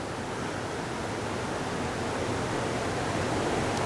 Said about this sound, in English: there's more and more and more waterfalls along the creek here